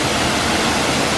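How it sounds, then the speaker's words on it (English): Falling Edge Waterfall in Jamaica roars up close, a loud, dense and constant rush of falling water. "the falls is behind me now"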